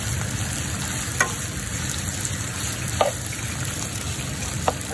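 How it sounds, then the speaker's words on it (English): Minced meat and potatoes cook in a pan with a soft, steady bubbling sizzle, and a few faint taps come through now and then. "I let it simmer for about 2 more minutes"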